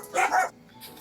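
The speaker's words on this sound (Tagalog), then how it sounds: "yung aso ang iingay no" Dogs barking loudly in two quick bursts close by, followed by a fainter yip near the end, with no talk over them.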